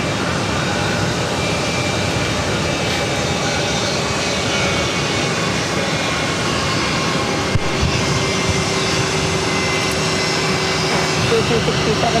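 A jet airliner at Boston Logan airport roars with a constant, loud broadband engine drone that never lets up, and voices are present within it.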